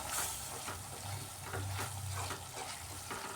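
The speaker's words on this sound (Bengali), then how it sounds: "টক দই দিয়ে আবার ভালোভাবে কষিয়ে নিতে হবে মশলাটাকে" Masala with sour yogurt sautés in a pan, producing a quiet, steady sizzle broken by bursts of stirring, heard close up with no one talking.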